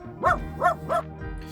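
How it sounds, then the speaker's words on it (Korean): A dog gives three distinct barks in a steady rhythm at sunset beside a small open fishing pond, close and fairly loud, with a fainter fourth yip trailing at the end. "우리 까미가 해가 진다면서 멍멍 짖고 있네요"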